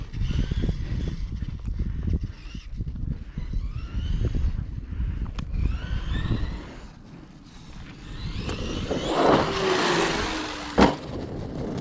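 A 1/5-scale ARRMA Kraton EXB RC car on a 12S setup drives and jumps outdoors, its electric motor whining up in rising surges with bumps and landings, the pitch climbing sharply near the end.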